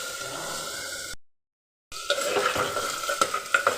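Meat frying in oil and ghee inside a clay pot for a simple biryani, a close sizzling hiss with stirring scrapes and crackles, broken by a short silent gap before louder popping resumes.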